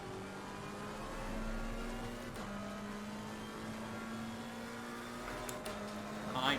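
A McLaren GT race car engine in the Assetto Corsa Competizione racing game drones steadily at fairly constant revs, with other cars nearby faintly audible, at low volume.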